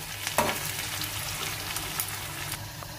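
Hot oil crackles and sizzles steadily at close range as whole dried red chilies fry for a dal tempering, with small pops and a faint stirring scrape.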